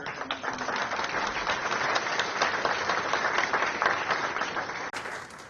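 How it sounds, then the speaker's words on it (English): An audience at an Austin city budget presentation gives sustained applause, with dense, even clapping that holds steady for several seconds before cutting off abruptly. "I think we should applaud that one more time"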